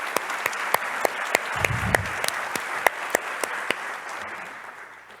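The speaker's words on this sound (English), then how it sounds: "I would like to ask you an applause just for you" At the opening plenary of a food policy forum in Rio de Janeiro, scattered individual claps ring out sharply from a hall, sparse and uneven, about a dozen distinct hits before they thin out and fade.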